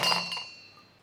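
A single bright clink of 50 grams of cashews dropping into a mixer jar for an egg dish, a short glassy chime up close that rings briefly and fades out alone.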